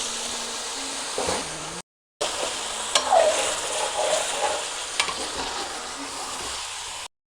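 Chicken frying in a pan for a creamy white korma gives a steady close sizzle, broken by a brief silence, with scraping stirs and spitting crackles across the rest.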